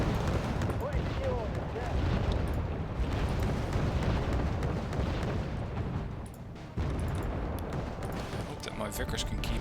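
Tank cannon fire and explosions in Wargame Red Dragon form a dense rumbling barrage of booms and blasts, steady and heavy, with a brief dip before the battle noise resumes.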